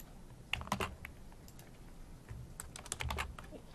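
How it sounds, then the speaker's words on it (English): Computer keyboard typing while R code for an independent t-test is entered: quick bursts of close, crisp key clicks in uneven clusters, with a short pause in the middle and no speech. "Now, I could spend a lot of time typing all these in"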